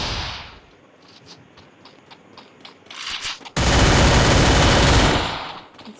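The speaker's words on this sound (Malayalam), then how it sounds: "ഇപ്പം തന്നെ വെടിവെക്കുന്നുണ്ട്" Gunfire in the mobile game Free Fire: a few faint pops, then a loud, dense burst of rapid shots that holds for about two seconds before cutting off.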